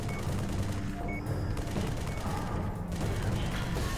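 Gunfire in the Halo ODST mission NMPD HQ, a steady dense rattle of automatic shots blending with game action and music, loud and continuous throughout with no pauses.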